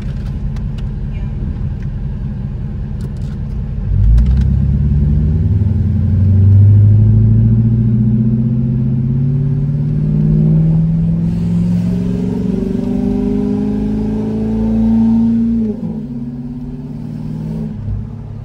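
A Chevrolet C5 Corvette engine drives past up close, its deep rumble swelling as it revs and accelerates through an enclosed stretch, then settling back down near the end.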